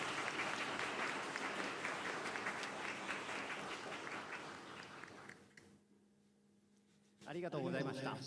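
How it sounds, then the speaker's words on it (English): An audience applauds at the close of a Kamen Rider master class event, dense sustained clapping that fades into a short lull before another loud burst of clapping. "Another warm round of applause to Mr. Fujitsu, Mr. Kaneda, Mr. Sanjo"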